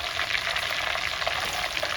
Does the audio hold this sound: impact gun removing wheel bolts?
no